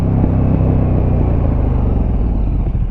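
KTM 1290 motorcycle with an Akrapovic slip-on exhaust, a loud, close, deep rumbling drone with a steady throbbing beat, holding level throughout without speech.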